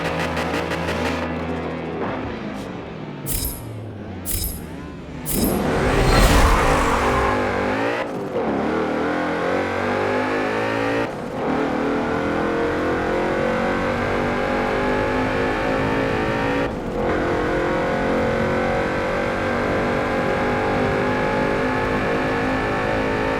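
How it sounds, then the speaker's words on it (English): A 2012 Porsche Cayenne Turbo accelerating in a Forza Motorsport 7 drag race: engine revs building, a loud launch roar, then a sustained rising drone broken by a few sharp gear-shift dips, close and without talk. "So here we go, 2012 Porsche Cayenne Turbo."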